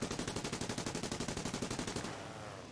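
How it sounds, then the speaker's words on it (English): Machine gun from a War Thunder plane strafing a downed I-16, a rapid evenly spaced stream of shots lasting about two seconds before cutting off, heard from a distance. "he's continuing to strafe the I-16 that's already dead out"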